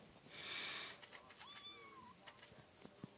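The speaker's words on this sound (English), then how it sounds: "Meow for the camera." A kitten gives a couple of short, high meows indoors, fairly close and clear, with faint room noise between them.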